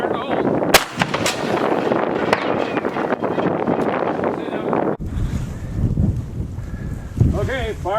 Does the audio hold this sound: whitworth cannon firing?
yes